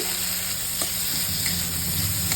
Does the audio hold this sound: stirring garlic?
yes